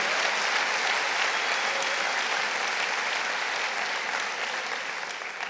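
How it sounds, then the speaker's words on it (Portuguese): A church congregation applauding together after a sermon, a steady, dense wash of clapping that holds for several seconds and then begins to fade slightly near the end, with no voices over it. "Pode aplaudir."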